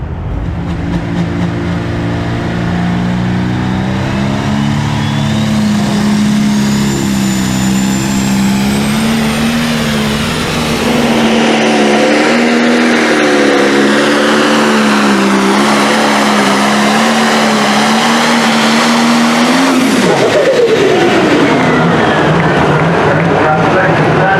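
A Super Stock pulling tractor at an NTPA Grand National tractor pull roars loudly and steadily for the whole stretch, its engine pitch climbing and wavering before a sharp drop near the end, with an announcer's voice over it.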